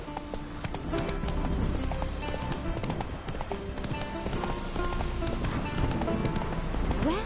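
Hooves of Roach, a horse galloping in The Witcher video game, drum in a fast continuous clip-clop over ambient game sound, close and steady throughout.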